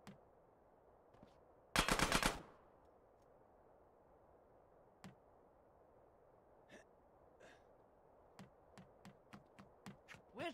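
Gunfire in Grand Theft Auto San Andreas Definitive Edition, opening with one loud rapid automatic burst, then scattered single shots, fainter and more spread out, with a cluster of quick sharp pops near the end.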